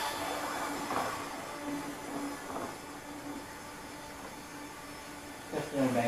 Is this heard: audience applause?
no